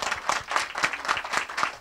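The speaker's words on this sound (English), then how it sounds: "I think y'all deserve a round of applause" Audience applause at a homeowners' association meeting: dense, steady clapping with a slightly pulsing rhythm, fairly close and moderately loud, continuing for the whole stretch without talk.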